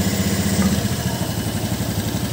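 A Honda Beat FI scooter engine idles steadily up close, a low, even putter with a fast regular pulse and no voices.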